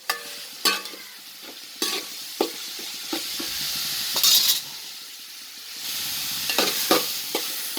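Ginger garlic paste sautés in a pan for mutton biryani, a low frying sizzle broken by repeated sharp clinks and scrapes of a spoon stirring against the metal, close and without talk.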